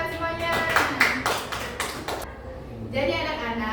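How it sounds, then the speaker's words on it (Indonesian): A classroom of children claps their hands together in a quick burst of overlapping claps lasting under two seconds, with voices speaking around it. "Tepuk tangan semuanya."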